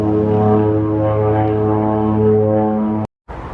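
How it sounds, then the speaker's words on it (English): A float plane's propeller engine drones loud and steady near a railway roundhouse, a sustained harmonic roar that cuts off abruptly near the end before a softer rumble resumes. "There's another float plane just taking off."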